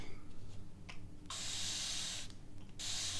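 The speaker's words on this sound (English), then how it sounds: "I will get my spray bottle" Several quick squirts from a hand spray bottle misting water into thick craft paint, two short bursts followed by longer hissing sprays, close and clear with no talk.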